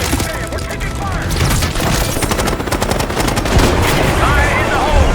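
Dense automatic gunfire crackles through a Call of Duty Black Ops 6 campaign battle, with rapid overlapping bursts and booms, loud and close, under shouting voices.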